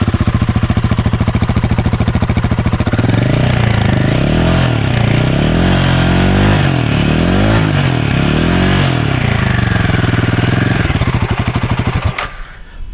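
Royal Enfield Himalayan 450 motorcycle with an aluminium exhaust runs close and loud, idling steadily before being revved in several rising and falling bursts, then cutting off abruptly at the end.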